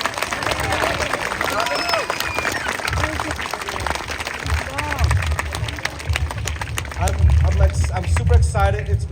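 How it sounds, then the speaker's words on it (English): Children clapping in a lively burst for donors and sponsors at the opening ceremony of a Hmong kids' summer soccer festival, dense rapid claps mixed with cheering and chatter from the crowd. "So everyone, kids, give them a big clap."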